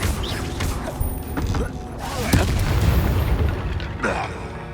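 Booming Confringo explosive spell blasts ring out amid a Hogwarts Legacy video game fight, with thuds, pops and crackling impacts in quick succession, some under faint voices.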